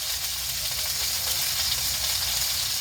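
Pork chops frying in a cast iron skillet give off a steady, loud hiss of sizzling grease, continuous and close with no pauses or voices.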